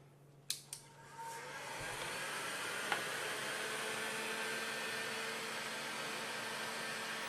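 A heat source, likely a hot-air blower, whooshes steadily while heating joint splint material to about 120–140 degrees, a soft continuous airy hiss after a few light clicks at the start.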